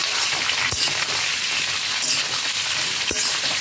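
Thick spinach stalks sizzle steadily in hot oil in a pan, a close, even hiss of frying with a couple of brief clinks or stirring knocks along the way.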